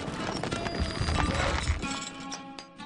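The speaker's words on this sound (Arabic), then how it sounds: "الفرس تعدو" Horse hooves gallop in the medieval strategy game Stronghold Crusader, a fast, busy drumming of clip-clops mixed with game music and ambience for about three seconds.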